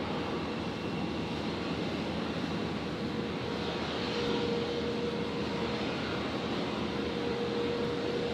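An airliner landing on runway 01 left at Brisbane Airport, heard as a steady, broad roar of jet engine noise that holds constant and fairly loud throughout, with a faint tonal whine emerging partway through.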